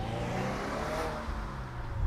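A 2025 Subaru WRX tS puts out a low, steady exhaust rumble from inside the cabin, with a constant engine drone that swells slightly toward the end and has no talking over it.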